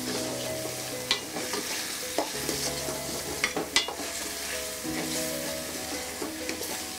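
Masala for chicken shakuti sizzles steadily in a hot pan while a spoon scrapes and stirs it, with intermittent clinks against the metal, over soft background music.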